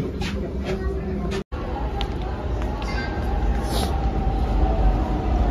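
A Pune metro train runs with a continuous low rumble and rolling track noise that grows slightly louder toward the end. Voices can be heard over it.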